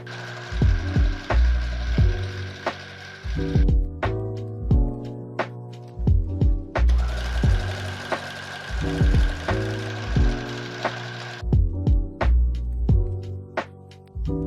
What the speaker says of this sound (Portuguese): E também já vou passar a costura nessas tiras